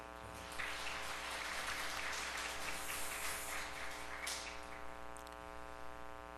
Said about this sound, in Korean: 박수를 한번 쳐줄까요?